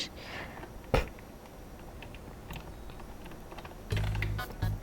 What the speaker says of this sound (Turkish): TP yazayım.